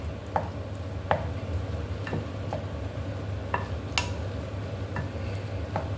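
Meatballs sizzle in a frying pan as a spoon stirs them, with a steady low hiss and a handful of sharp scraping clicks spaced irregularly against the pan.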